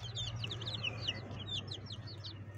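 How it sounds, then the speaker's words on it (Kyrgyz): Jersey Giant chicks cheeping in a rapid, overlapping flurry of high peeps, close and steady over a low background hum. "Мына туугандар, жанагы жерси гиганттын чөжүлөрү."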